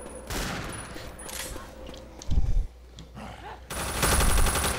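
Bursts of gunfire in the zombie shooter Left 4 Dead, scattered shots over game ambience with a heavy close blast and a dense rattling volley near the end.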